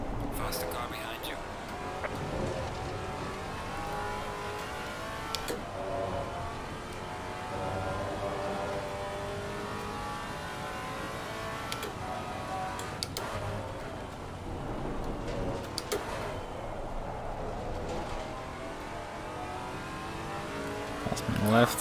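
A faster race car closes in from behind during an Assetto Corsa Competizione race at Imola, its engine a steady, continuous roar with revving over constant track noise, while a spotter's voice talks over it.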